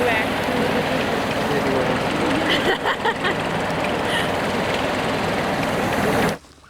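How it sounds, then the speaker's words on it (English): A large fan powered by a tractor blowing sand across a remote desert film set gives a loud, steady broadband roar that cuts off abruptly near the end. "they are using a large fan powered by a tractor to blow sand across the frame"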